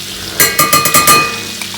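Butter melts and cooks in a pan, giving a short close sizzle with a few quick scraping or stirring strokes and no voices.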